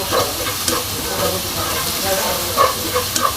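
Chopped onions with green and black cardamom, cinnamon and cloves frying in a pan for chicken maharani, giving a steady soft sizzle and hiss with a few brief stirring scrapes, no talk.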